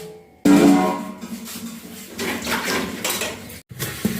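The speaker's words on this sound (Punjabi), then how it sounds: "ਫਿਰ ਭਾਂਡੇ ਮਾਜਦੀ ਹਾਂ" Dishes being washed by hand in a household kitchen, with running water and clattering pots and utensils rising and falling close by.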